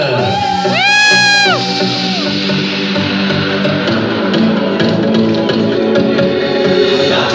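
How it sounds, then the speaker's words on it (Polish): Wedding guests cheering for a mother and daughter's dance, with a loud, rising whoop near the start followed by sustained, noisy crowd cheering and clapping. "Już wcale nie tak początkująca para, którą witamy oklaskami raz jeszcze!"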